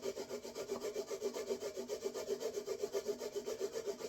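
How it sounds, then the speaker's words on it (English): Scour pad with oil rubbed back and forth along ukulele fret edges during fretboard restoration, a steady rhythmic scrubbing with regular strokes, close and moderately loud, no talking. "run it down through there and polish the edge of those frets"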